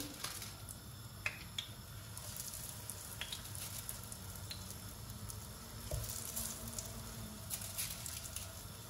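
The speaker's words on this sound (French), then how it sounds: "Voilà, mon huile, elle est bien chaude. Donc je pose mes galettes." Potato and cheese galettes frying in hot oil give a steady, close sizzle with a constant crackle and occasional small pops and spatters throughout.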